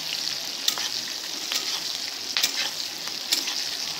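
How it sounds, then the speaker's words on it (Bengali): Onion and ginger lightly frying in oil for a chicken mint curry, a steady soft sizzle with a few sharp stirring scrapes spaced roughly a second apart, close and alone. "হালকা করে এটা ভেজে নেওয়া হচ্ছে।"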